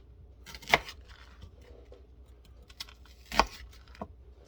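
Half an onion chopped with a knife on a board in a home kitchen, two sharp distinct chops with a lighter tap afterward, close and fairly quiet over faint room noise, no talking.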